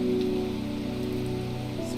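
Steady rain patters in the video game Strange Horticulture, a soft continuous wash under a low sustained tonal background score.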